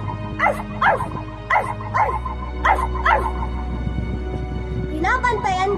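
Several short dog yips and barks in an irregular series, close by, over a steady low background hum, with a brief whimpering call at the end.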